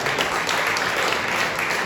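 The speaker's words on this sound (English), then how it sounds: "You should applaud that one." An audience at a community action assembly applauds steadily, a dense continuous wash of clapping from many hands with no break, filling the room at moderate loudness.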